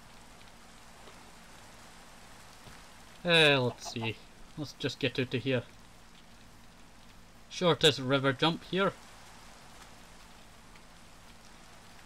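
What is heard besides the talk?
rain falling in a Minecraft video game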